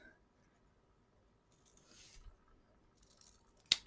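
Scissors trim the bottom edges of a handmade wedding card with liquid glue seeping out. Faint, quiet rustling and rubbing lead to a single crisp snip near the end.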